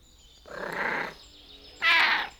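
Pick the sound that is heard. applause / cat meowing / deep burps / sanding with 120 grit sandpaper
cat meowing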